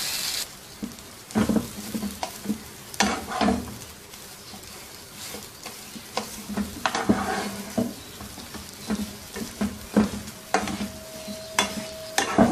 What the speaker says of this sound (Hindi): मैश किए हुए आलू इसमें शामिल कर देंगे। और इनको भी 1-2 मिनट पका लेंगे।